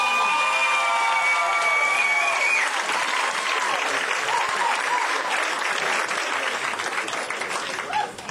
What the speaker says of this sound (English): please give it up with a round of applause for Mr. Randy Samora